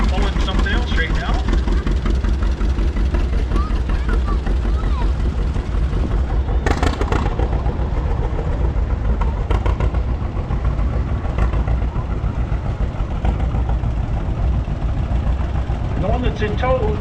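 A 1950 John Deere G tractor engine runs steadily in a parade at Lacombe, a low rumbling drone heard throughout while an announcer talks over it.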